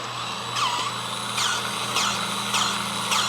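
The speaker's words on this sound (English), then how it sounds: "I broke down and invested in one of these DeWalt battery-powered grease guns years ago." A DeWalt battery-powered grease gun whirs close by while greasing a Solis H24 compact tractor, its motor pumping in steady pulses roughly every half second.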